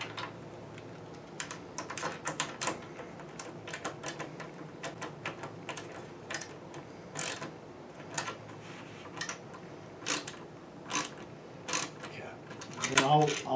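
Screws being driven into a plastic instrument panel for a 1968-73 Opel GT, a string of quiet, irregular clicks and ratcheting ticks close by, with faint talk in the background.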